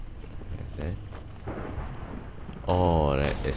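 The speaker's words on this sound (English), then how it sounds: "Oh, that is a lightning." Thunder from a lightning strike in Minecraft, on a scary survival map: a low rumbling bed that swells into a loud, sudden crack near the end.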